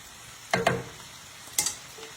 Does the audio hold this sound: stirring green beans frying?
yes